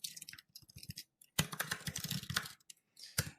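Quick, close bursts of clicky keystrokes on a computer keyboard, with brief pauses between runs of typing.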